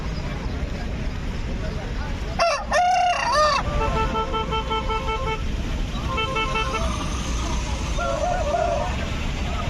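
A rooster crows loudly and close by at a busy poultry market in Gudur, with hens clucking and scattered market noise and a brief horn-like toot in the background.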